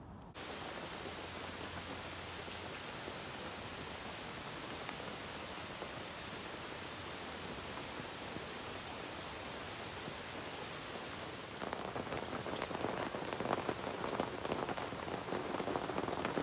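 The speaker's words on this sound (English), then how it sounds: "It was chilly outside and rainy." Steady rain falls outdoors on a chilly morning at a campsite, an even, dense hiss of drops on surfaces that swells louder and heavier toward the end.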